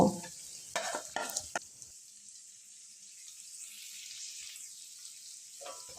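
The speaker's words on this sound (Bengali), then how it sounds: "তেল গরম হয়ে গেলে ম্যারিনেট করা পনিরটা দিয়ে দেবো" Marinated paneer going into hot mustard oil in a pan, giving a few short clattering bursts at the start and then a steady, soft hiss of frying that continues to the end without talk.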